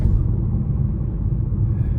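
The 1.2-litre turbo engine of a 2026 Chevrolet Trax accelerates as a steady, low, muffled rumble heard from inside the cabin, with no voices.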